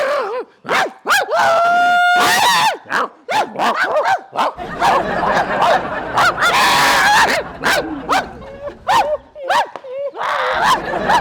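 A voice imitates a dog, letting out a rapid string of loud, close barks and honking yelps in bursts, with talking mixed in among them.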